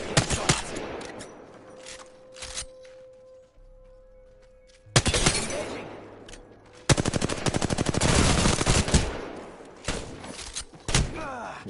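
R-301 rifle gunfire in Apex Legends, loud rapid automatic bursts close up, with a sustained stretch of continuous firing and brief pauses between volleys.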